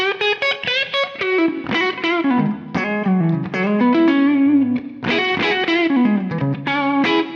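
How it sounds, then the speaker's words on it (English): A PRS McCarty electric guitar with humbuckers, heavily distorted, plays thick, sustained chords and bends, loud and upfront with no voices. "I much prefer this kind of heavy humbucker tone."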